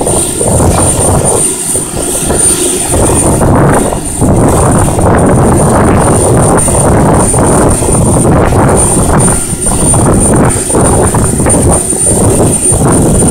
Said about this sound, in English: that's the Huffer running